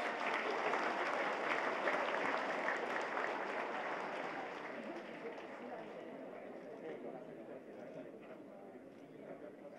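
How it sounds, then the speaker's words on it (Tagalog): Audience applauding at the Philippine Military Academy commencement exercises in Baguio City, dense steady clapping that gradually fades as it continues. "You clap your hands."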